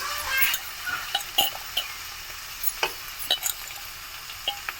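Chicken pieces frying in an onion tempering, with a steady broadband sizzle and scattered sharp clicks and scrapes of stirring, close and moderately loud, no voices.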